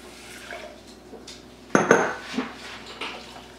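Breakfast bowl ingredients for a Snickers-style bowl tipped into a pot, with a few clattering knocks of dish and utensil against the pot, one sharp burst near the middle and softer clinks after, no talking.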